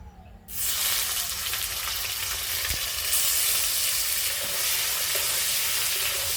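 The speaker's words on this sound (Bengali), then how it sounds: "পনিরগুলো আমি হালকা করে ভেজে নেবো" After a brief quiet start, paneer hits the oil with a sudden loud sizzle that continues steadily and close.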